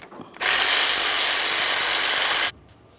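Power tool whirs loudly in one continuous two-second burst as the last bolt of a Jeep Patriot power steering pump is removed, close up, starting and stopping abruptly.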